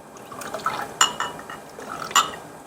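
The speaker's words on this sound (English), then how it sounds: "Get me some apple cider vinegar. I'll probably just put a little dab of that." Apple cider vinegar is poured in a short, faint trickle into a pot of grass-fed beef bone broth, with a few soft splashes and drips.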